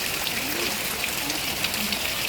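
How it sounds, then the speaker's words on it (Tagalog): Heavy rain pours steadily during typhoon Opong in Metro Manila, a dense, loud, unbroken hiss of water on surfaces with no talking. "lakas ng ulan, oh"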